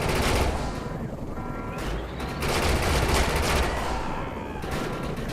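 Sustained minigun fire in a sci-fi shooter game forms a dense, continuous roar of rapid shots with a few brief dips, loud throughout and layered with other game noise.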